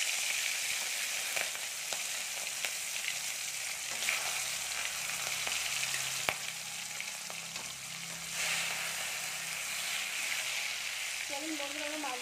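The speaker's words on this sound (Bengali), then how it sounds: "এবার মাছগুলো আমরা এক এক করে ছেড়ে দেব।" Prawns (giant freshwater prawns) frying in hot mustard oil in a wok, a steady loud sizzle running throughout with small crackles and brief stirring clatter, no talking.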